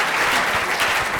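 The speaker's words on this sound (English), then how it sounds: "So can you guys clap for this crew?" A short, dense burst of audience clapping for a crew at a founder's talk, loud and continuous throughout.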